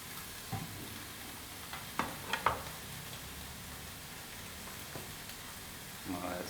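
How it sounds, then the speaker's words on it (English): A mushroom grills with a little pork fat in a pan, giving a soft, quiet steady sizzle broken by a few light clicks and stirring knocks, with no talk. "It's going to mostly grill, but there's a little bit of pork fat in there as well."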